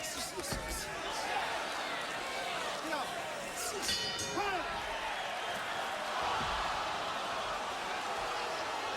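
A boxing ring bell sounds to end the second round of the Razor Ruddock vs Kimmuel Odum fight, with a few sharp metallic rings heard under arena crowd noise and the commentators talking.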